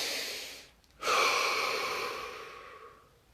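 One deep breath during a guided face-muscle relaxation session: a short quiet pause, then a long, soft airy inhalation and exhalation that slowly fades, close and alone.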